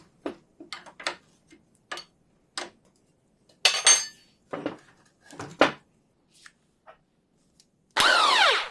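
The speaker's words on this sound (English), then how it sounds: "I've got the impact gun out, might as well use it." An impact gun works a strut nut on a Triumph TR7 front suspension, giving short sharp metallic rattling bursts separated by clinks, ending in one longer loud burst.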